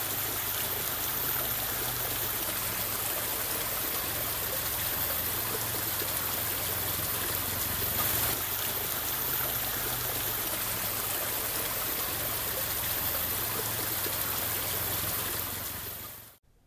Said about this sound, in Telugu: బాహుబలి రేంజ్ వాటర్ ఫాల్స్ అనుకుని వెళ్ళాం, కానీ ఏదో బాత్రూంలో ట్యాప్ తిప్పినట్టు వస్తుంది వాటర్ అక్కడ